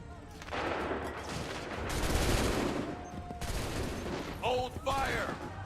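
Musket volleys in Assassin's Creed 3 crack out as heavy, rolling bursts of massed gunfire, with several loud blasts in succession and brief lulls between them. Shouted voices break in near the end.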